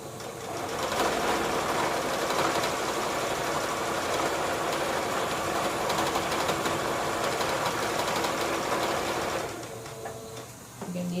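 A sewing machine stitches around a fabric heart for a NICU baby. It runs as a steady, continuous mechanical whir for about eight seconds, then stops.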